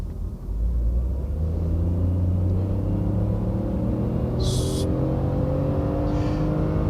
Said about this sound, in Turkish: Mesela rölantide 3 silindir sesini duyuyorsun.